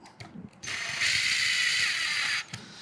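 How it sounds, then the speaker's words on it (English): A power drill driving screws whirs in a steady high-pitched burst for about two seconds, preceded and followed by faint clicks and handling noises, close up. "just grab my drill and run it"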